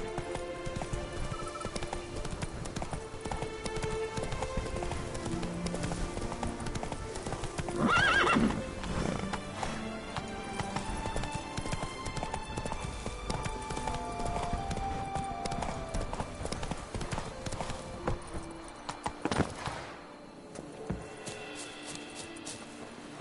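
Roach, Geralt's horse in The Witcher 3, galloping with rapid rhythmic hoofbeats, a whinny partway through, and game music and ambience underneath, fairly faint overall.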